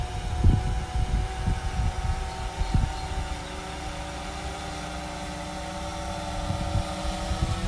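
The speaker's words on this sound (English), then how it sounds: "You could hear the drone getting a little bit louder." Camera drone flying overhead and coming in to land beside a bridge, a steady whirring motor drone with a tonal hum that holds at an even loudness, with a few low thumps near the start.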